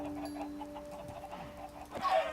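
Chickens in the Minecraft video game cluck repeatedly in a steady low stream, moderately loud and close, with a brighter squawk-like burst near the end and no talking.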